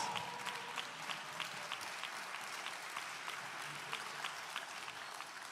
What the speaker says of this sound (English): Stacey Davis Gates, stand up and get a round of applause.